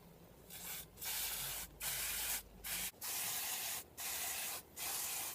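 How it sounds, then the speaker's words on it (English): Brake cleaner is sprayed onto assembled disc brake components on a 2003 Suzuki Grand Vitara 2.5 V6, in five close hissing bursts of about half a second to a second each, separated by short pauses. "it sprays on, and you can use it to clean brake components while it's all assembled"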